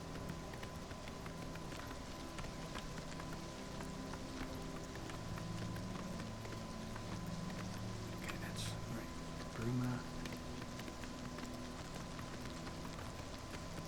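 Steady rain patters throughout a rainy scene in the video game Oblivion Remastered, a constant hiss under a voice as he talks.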